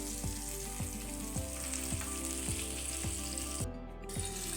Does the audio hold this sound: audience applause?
no